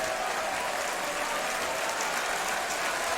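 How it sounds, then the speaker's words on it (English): A wrestling crowd cheering and applauding at a live Dragon Gate show in Europe, a continuous loud wash of clapping and shouting filling the hall throughout. "Listen to this crowd."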